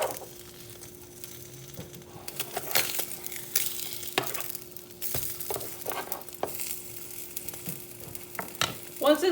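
Steady crackling sizzle of Spam frying in a pan, with occasional clinks and scrapes of utensils against the pan, close and moderately loud.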